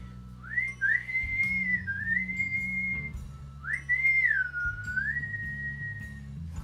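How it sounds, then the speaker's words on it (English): A person recovering from Bell's palsy whistling two clear sustained phrases, each a rising then gently wavering tone, close and fairly loud over a faint low hum. "I found my whistle."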